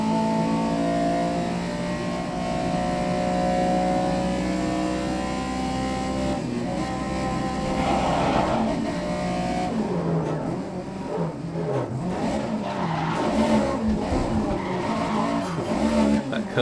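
A race car in the racing game GRID (2019) roars through a lap in cockpit view, its steady engine drone shifting pitch as it brakes and accelerates, with tire skids and squeals through the corners, loud and close.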